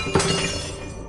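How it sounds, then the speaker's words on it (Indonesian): Glass shattering as a sound effect, one sharp crash followed by a brief ringing, tinkling decay. "Bunyi kaca pecah,"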